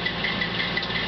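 An Erie Lackawanna U-25B model locomotive with DCC sound idling on a two-level model railroad layout: a brief, low diesel rumble with faint regular pulsing, steady and moderately quiet.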